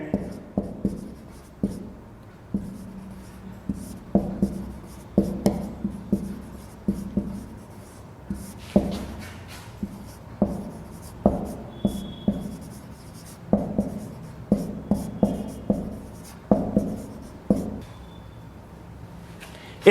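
Pen on paper in a quiet room: a hand writes out an example in irregular bursts of scratchy strokes and taps, separated by short pauses, close and fairly soft, with no talking.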